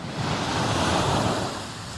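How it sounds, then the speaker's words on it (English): Ocean surf rolling onto a beach at Sandestin, Florida, heard as a steady roaring wash of waves with some wind buffeting the microphone, loud and continuous, with no voices. "We've got the ocean behind us, we've got the beach"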